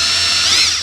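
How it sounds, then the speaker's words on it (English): A power drill with a bit starting a shallow pilot hole in a DIY sleeve platen, a loud steady high-pitched whine running the whole short burst, close to the microphone with no talking. "I'm just going to start a little pilot hole."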